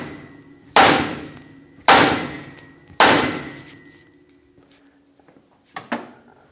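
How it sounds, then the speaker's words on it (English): Three heavy metallic hammer blows on a 2008-2010 Ford F-250 Super Duty steering knuckle land about a second apart, each ringing out, followed by two lighter taps; close and loud. "take a hammer and hit right here to push the stud out of the knuckle"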